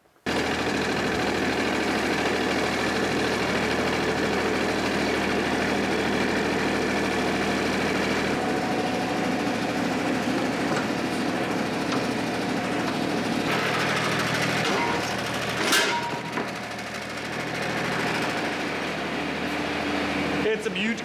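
A compact tractor's engine runs steadily with a tiller hooked up, a constant loud mechanical drone that holds through the whole stretch, with a brief clatter near the end.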